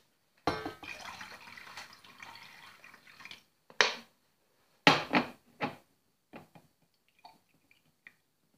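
Water poured in short splashy bursts while making homemade glue, a longer continuous pour followed by several brief trickles and drips, close and fairly quiet with no talking.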